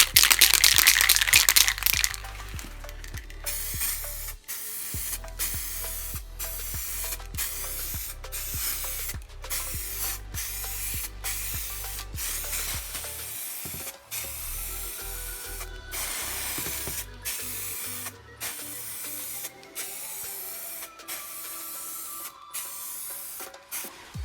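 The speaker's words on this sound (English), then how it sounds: "But now let's paint the plastics white." White spray paint is applied to Rieju MRX motorbike plastics in repeated close bursts of hissing spray, each separated by brief pauses, with a louder rush at the start and no talk.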